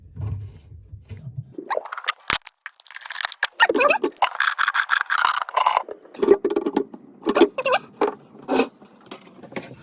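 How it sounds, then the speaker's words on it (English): A gas water heater supply line fitting is twisted on by hand, giving close, irregular scratching and scraping of metal threads in short repeated bursts, with no talk. "You want to put it in hand tight first to make sure that you don't cross thread anything."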